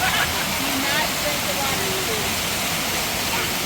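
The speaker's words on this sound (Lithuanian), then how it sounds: "tau įdomiai teka vandenėlis, fontanėlis." Water runs steadily from a small outdoor fountain in a city park in Cincinnati on a warm day, a continuous broadband splashing rush that stays loud and even throughout with no breaks.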